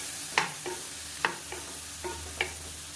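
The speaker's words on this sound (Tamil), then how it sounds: "இதையும் சேர்த்து நல்லா பரட்டி விட்டுக்கலாம்." A spoon stirs pepper spice powder into chicken frying in a pan, giving four or five evenly spaced scraping strokes over a steady soft sizzle.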